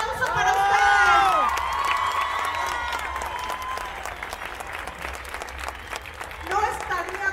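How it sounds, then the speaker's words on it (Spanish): A crowd at a political rally applauds and cheers loudly, dense clapping with whoops and shouts that peak early then ease to a steady ovation, with voices calling out over it. "¡Un aplauso para ustedes!"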